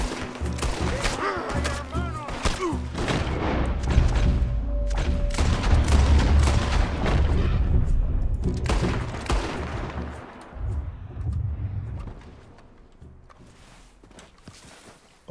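Repeated gunfire in Red Dead Redemption 2, the Western action game, crackling in dense bursts and volleys for most of the stretch, loud and close, thinning toward the end with brief speech-like sounds mixed in.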